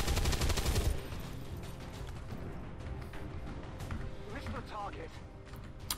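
A sharp burst of gunfire rings out in the XCOM 2 tactical battle, loud at the very start, then fading under quieter game effects and a talking voice.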